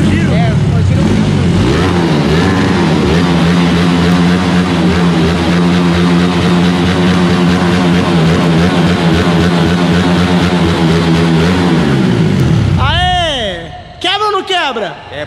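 A Honda Titan 150 motorcycle fitted with a 240cc kit and a Twister carburetor revs loudly and steadily near the microphone, holding high rpm before dropping off, followed by quick sharp throttle blips while people talk.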